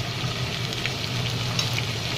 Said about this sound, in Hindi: जैसे ही इसके अंदर बबल्स आने लगे, अब हम इसके अंदर डालेंगे हमारा लहसुन